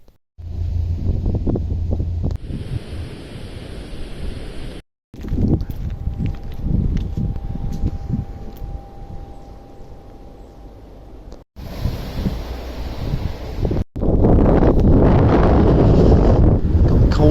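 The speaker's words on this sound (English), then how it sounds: "it's windy, it's wet" Strong wind buffets the microphone in heavy rumbling gusts on a wet day by a narrowboat on the Calder and Hebble canal, dropping out briefly and then roaring back louder near the end.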